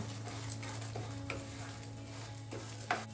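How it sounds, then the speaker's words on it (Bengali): Garlic fries in oil for a chutney with a soft, continuous sizzle close by. Light stirring taps and scrapes sound every half second or so. "তেলটা দিলে রসুন টসুন গুলো ভালো করে ভাজা হবে"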